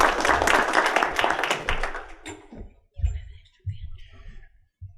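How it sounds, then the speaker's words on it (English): Audience applause at a meeting of the Izaak Walton League, a dense burst of clapping for about two seconds that thins out and stops, followed by a speaker talking into a microphone. "let's give them a round of applause and thank them"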